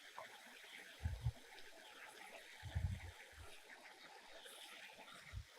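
Brinjal pieces drop into a hot pan for a mint brinjal dish and fry with a soft, steady sizzling hiss, punctuated by a few low thuds as the eggplant lands and shifts.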